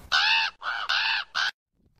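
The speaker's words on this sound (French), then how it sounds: "Tu rappelles le corbeau, hein?" A crow caws four times in quick succession, loud, harsh and close, each call drawn out with short gaps between them, then silence.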